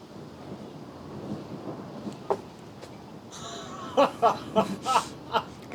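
Distant thunder rumbles low during a storm, followed by a sharper rolling crack of thunder with several rapid bursts near the end, under steady background noise.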